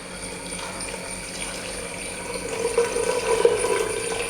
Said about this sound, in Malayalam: ഇനി നമുക്ക് വെജിറ്റബിൾസ് മുങ്ങിക്കിടക്കത്തക്ക രീതിയിൽ വെള്ളം ഒഴിച്ചു കൊടുക്കാം.